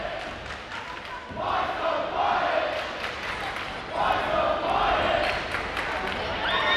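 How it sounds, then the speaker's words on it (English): A Warsaw student cheer block roars and chants at a girls high school basketball game, a loud rowdy crowd swelling in waves across the gym with yelling voices layered over each other. "Warsaw cheer block getting a little rowdy"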